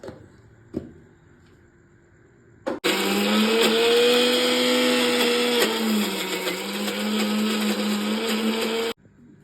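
A mixer grinder grinds green gram into dosa batter with salt, a loud steady whirring drone that starts abruptly after a soft knock, runs for about six seconds, then cuts off cleanly.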